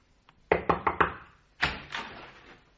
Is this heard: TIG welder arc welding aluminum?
no